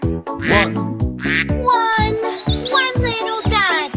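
Sung quacks in a children's nursery song about little ducks, with a voice imitating a duck in a bouncy series of quacks over a steady musical accompaniment, loud and close.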